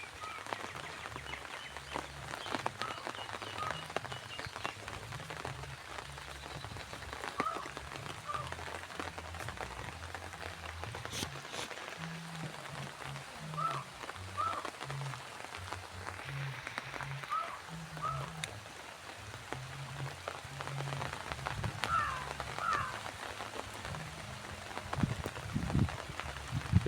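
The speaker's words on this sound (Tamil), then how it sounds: "காற்றும் லைட்டாக அடிச்சுட்டு தான் இருக்கும், மழையும் பெஞ்சிட்டு தான் இருக்கும்." Steady rain patters on surfaces with light gusts of wind, a soft continuous hiss throughout, with occasional faint bird chirps.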